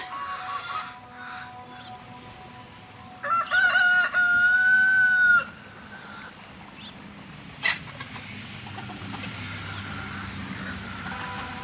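A loose backyard chicken outdoors after a storm, heard in one drawn-out, fairly loud call midway and a brief squawk later, over steady outdoor background noise.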